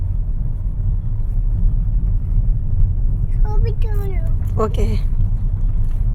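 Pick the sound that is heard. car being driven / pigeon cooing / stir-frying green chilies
car being driven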